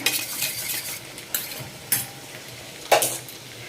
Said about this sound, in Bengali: তেজপাতা, ডিম, পেঁয়াজ, কাঁচা লঙ্কা দিয়ে ভাজা হচ্ছে, আলু ভাজা।